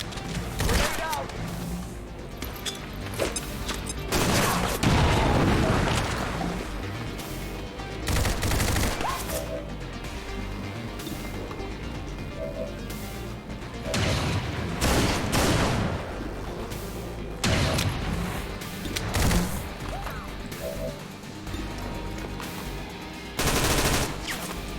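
Heavy gunfire and blasts fill an XCOM 2 firefight, with rapid automatic bursts and booming impacts recurring across the span, loud and close, and occasional voices underneath.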